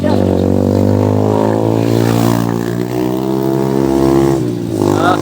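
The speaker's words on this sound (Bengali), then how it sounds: "আরে মোটরসাইকেল না হেলিকপ্টার কি চালাচ্ছে?" A motorcycle revving loudly close by in a village, a rough droning engine note that holds and shifts pitch for about five seconds with no pause.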